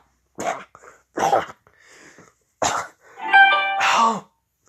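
A human voice imitating someone suddenly coughing up water: a few sharp, wet, spluttering coughs and gasps in quick succession, loud and close against silence.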